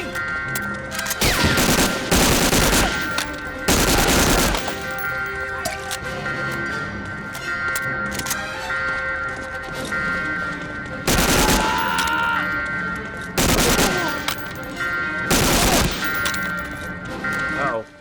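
Machine gun fire in Medal of Honor Warchest comes in several loud, heavy bursts of a second or so each, separated by quieter stretches of game sound and background music.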